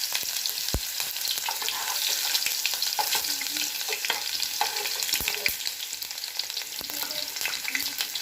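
Onions frying in hot oil for a meat dish, a steady close sizzle and crackle with occasional sharp pops, no voices.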